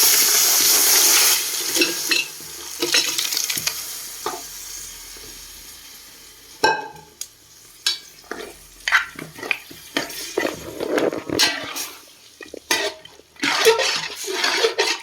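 Curry poured into a hot pan hisses and sizzles in a loud burst, followed by stirring and intermittent clatter of utensils.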